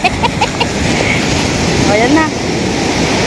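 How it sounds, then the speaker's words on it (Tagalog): Strong sea waves crash and roar continuously at a beach, a loud broadband wash filling the scene, with brief voices and shouts over it. "Pero ang lalakas ng alon guys"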